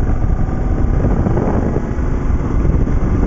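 A 2009 BMW G650GS single-cylinder motorcycle being ridden, its engine a steady, continuous mid-pitched drone with wind rush, close and fairly loud throughout, with no talking.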